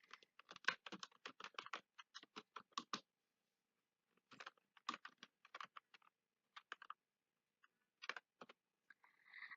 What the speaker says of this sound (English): then if I type something